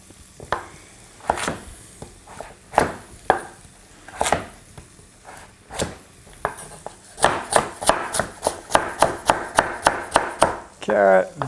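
A carrot is diced on a board with a knife, the cuts landing as sharp close chops, first irregular and spaced, then a quicker even run of strokes near the end.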